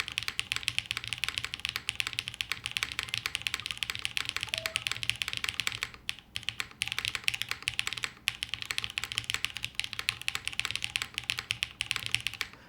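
Continuous rapid keystrokes on a purple top-mount custom mechanical keyboard, near and even, with a hint of case resonance and a couple of short pauses in the rhythm.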